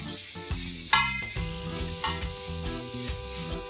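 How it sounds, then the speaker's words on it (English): Ginger paste and garlic paste sautéing in a pan for pav bhaji. A close sizzle with stirring plays over steady background music, and no one speaks. "1 teaspoon of ginger paste, 1 teaspoon of garlic paste. And just saute this for a minute."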